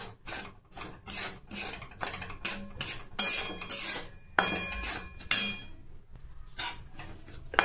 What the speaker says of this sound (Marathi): भाजून घ्यायचा आहे सर्व रवा